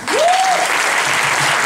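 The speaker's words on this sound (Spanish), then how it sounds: "a quien pido un fuerte aplauso" Concert audience in an auditorium applauding for a singer at a tribute concert, a loud, dense burst of clapping with a brief voice tone riding over the start.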